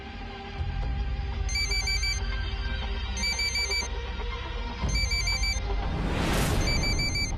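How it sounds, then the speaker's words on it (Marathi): A telephone rings indoors in a Marathi TV serial scene, four evenly spaced electronic ring bursts over a quiet room, with a soft whoosh just before the last ring. "महालक्ष्मीचा फोन आहे ना?"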